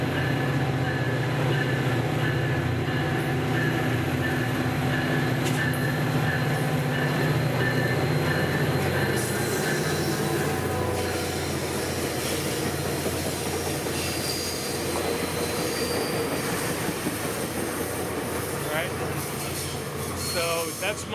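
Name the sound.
southbound Tri-Rail commuter train passing by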